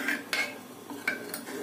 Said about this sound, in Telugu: ఈ సాల్ట్ వేసి బాగా కలుపుకొని వేడి పప్పులోని బాగా కలిపి